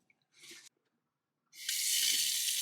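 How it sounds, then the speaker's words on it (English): Water gushes from a tap on newly installed plumbing inside a converted Transit van, first in a short burst, then after a pause in a loud, steady stream that keeps running. "We have running water."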